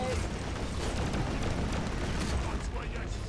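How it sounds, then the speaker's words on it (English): A loud explosion in Deep Rock Galactic delivers a broad, roaring blast with rumbling debris that fills the whole stretch, dense and close throughout. "Sorry if that explosion hit anybody."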